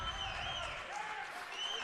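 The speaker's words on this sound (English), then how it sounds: "Miner fans are on their, got the claps going" Miner fans clapping in the stands at a high school boys basketball game, a steady crowd roar with rhythmic claps blended into arena noise under a commentator's voice.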